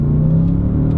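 Deep, loud engine rumble from a 2021 Range Rover Sport SVR in dynamic mode, a steady low-pitched drone heard close up, holding fairly even throughout.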